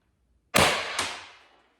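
A Pistelle X.68 blaster with a 3D printed barrel fires a single shot: a sharp, close crack, followed half a second later by a second impact, both trailing off in a decaying rush.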